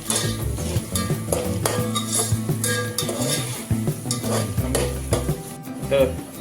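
A grated ginger and garlic masala for prawn biryani stirred in a hot pan, with steady scraping of a spoon against metal over a continuous sizzle, close and moderately loud with no talking.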